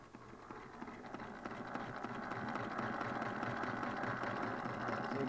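Singer 32-1 sewing machine converted to a hand crank, stitching with a steady, fast rhythmic mechanical chatter that holds close and even throughout.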